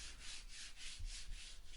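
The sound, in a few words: light sanding of a vice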